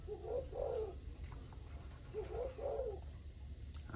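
A young caged dove of a Malaysian line, about six months old, gives two soft bouts of rolling coos, each a few quick notes, fairly close but quiet against low background hum.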